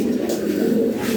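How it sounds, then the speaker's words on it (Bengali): A pair of Lahori Shirazi pigeons coos in a low, steady, continuous burble, close and fairly loud, with no talk over it. "আর এইখানে এক জোড়া কবুতর আছে"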